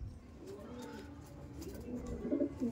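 Soft pigeon cooing, low and throaty, from a blue ice pied tournament racing pigeon held up close, repeating near the end over quiet background noise.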